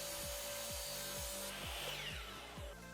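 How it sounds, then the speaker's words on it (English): A chop saw trims a one-piece wooden jig for sharpening planer and jointer blades. Its loud, steady whine and coarse rasping through the wood run continuously, then the tone drops partway through. "now I am cutting it to the proper length for both of those blades on the chop saw"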